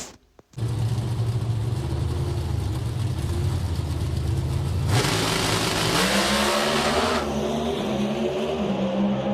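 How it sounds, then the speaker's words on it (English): NHRA Pro Stock drag race cars at the Pomona Finals roar as they launch down the track. A loud steady engine drone climbs into a brighter, harsher surge about halfway through, then the engine pitch shifts upward as the cars pull away. "Pomona Finals Pro Stock car is going to be Erica Enders versus Dallas Glenn"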